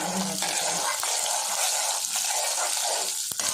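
Onions sizzle steadily in hot oil with garlic and dried red chillies, a bright continuous hiss with faint scraping touches throughout.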